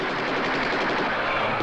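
Heavy, dense gunfire from soldiers in a sci-fi horror film bursts continuously for under two seconds, loud and close, with no talk over it.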